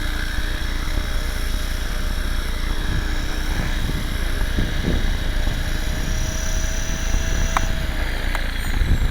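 An HK500GT radio-controlled helicopter is set down on a grassy home flying field, its steady rotor and motor whine droning loudly and evenly throughout, with a rising tone sweeping near the end.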